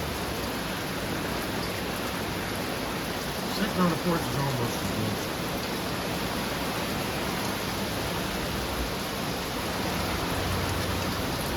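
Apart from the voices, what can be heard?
heavy rain in a storm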